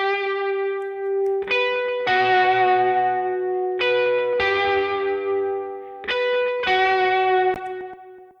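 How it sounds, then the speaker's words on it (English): Sustained electric guitar chords on a music track, with a repetitive delay effect adding echoing repeats that trail after each struck chord, loud and alone. "I kind of dig just throwing it off to a little repetitive little delay here that you can tuck in over the other side"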